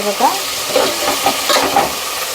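Tomatoes fry in a pan for egg biryani, a loud, close sizzle broken by repeated scraping strokes of a spoon stirring them.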